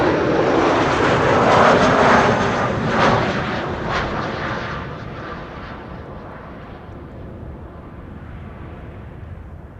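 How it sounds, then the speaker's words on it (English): KLM passenger jet arriving from Toulouse, landing at Amsterdam Schiphol airport: a loud rushing engine roar that peaks early, then slowly fades and dulls as the aircraft passes into the distance, with no talk. "KLM flight 1450 arriving from Toulouse is landing over here"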